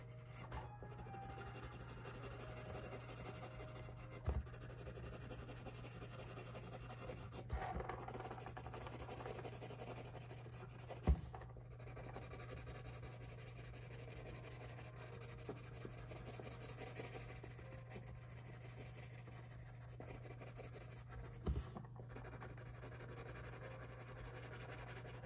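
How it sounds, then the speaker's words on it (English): An ebony pencil shades a drawing on paper with steady pressure, giving a continuous soft rubbing rasp throughout, close and quiet, with a few brief louder ticks as the pencil lifts and lands. "I'm pressing hard with my ebony pencil to achieve a black"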